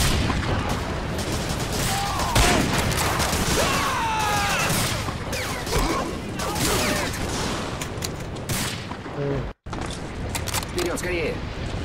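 A steady fusillade of gunfire and booming explosions fills a World War II battle in Medal of Honor, with shots crackling near and far. Shouting voices cut through the din, and everything drops out briefly near the end.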